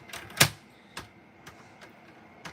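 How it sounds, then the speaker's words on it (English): Cardstock being scored lengthways and cut on the short side for floral greeting cards: one sharp snap-like click, then several fainter, evenly spaced ticks, close up with no talking. "So I want to score lengthways and cut"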